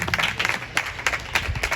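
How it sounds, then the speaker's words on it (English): An audience applauds a guest speaker at a talk, a short burst of dense, loud clapping from a crowd, with sharper claps standing out near the front. "can we applaud our guest speaker, Mohammed Sharif."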